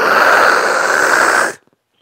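A voice imitates a rock slider on an FJ80 Land Cruiser scraping down a rock: a steady, loud, hissing rasp lasting about a second and a half, then cutting off abruptly into silence.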